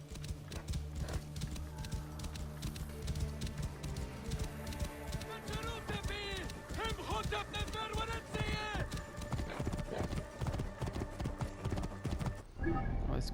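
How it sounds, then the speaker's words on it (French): Horse hooves clip-clop steadily in Assassin's Creed Origins, a repeated trotting rhythm up close with whinnying and game music mixed in and a voice speaking over it. "Ce doit être le cheval de Mered."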